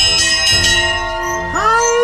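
A bright bell rings repeatedly in quick strikes on reaching the goal of a giant outdoor athletics course, its tones ringing on and sustaining, followed by a rising chime-like flourish; loud and close, no voices.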